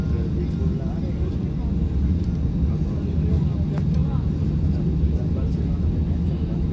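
Steady low cabin rumble of a small airplane waiting before takeoff, a continuous even drone with faint higher hiss and occasional soft clicks, loud and close throughout with no clear talk over it.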